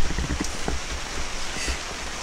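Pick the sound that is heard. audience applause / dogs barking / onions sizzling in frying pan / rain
rain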